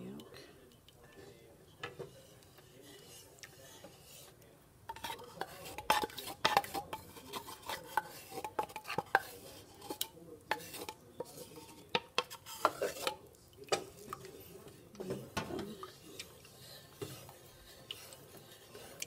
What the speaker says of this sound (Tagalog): So, haluin lang po natin.